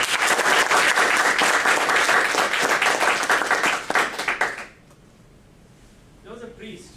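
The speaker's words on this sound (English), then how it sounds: "A big, big round of applause for that." Dense applause from a club audience at a Toastmasters installation ceremony fills the room for about four seconds, then quickly thins out and dies away, leaving near silence before a voice begins speaking.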